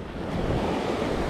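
Sea waves breaking on the shore while fishing for sea bass: a continuous loud wash of surf mixed with wind buffeting the microphone, with no talking.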